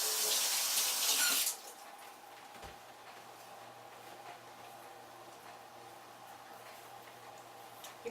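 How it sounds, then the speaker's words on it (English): A glass jar of cultured vegetables gets a quick rinse under a kitchen tap, a loud gush of running water lasting about a second and a half before it cuts off, leaving a quiet room. "Give it a rinse."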